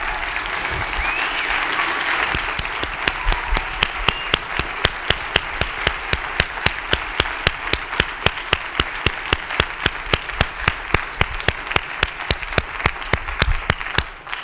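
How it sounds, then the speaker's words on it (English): Audience applause for a panel at a national meeting: a broad crowd clapping that soon settles into loud, rhythmic unison claps at a steady beat, continuing for many seconds. "Can we give them a round of applause?"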